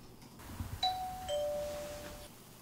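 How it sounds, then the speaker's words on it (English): A two-tone doorbell chime rings once, clear and fairly quiet, against a faint background hum. "it's obviously a doorbell"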